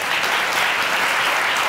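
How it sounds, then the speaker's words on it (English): Dense, steady applause from a conference audience thanking the panelists, a continuous even wash of many hands clapping at once, moderately loud and close, with no voices standing out. "Can we please have a round of applause for these panelists?"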